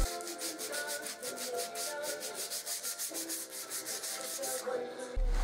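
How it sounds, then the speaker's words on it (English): A wooden crosscut sled fence's rounded-over edges are sanded by hand, giving a rhythmic series of close, quick scratchy rubbing strokes that continue steadily before a short pause near the end. "Then I sanded those roundovers by hand."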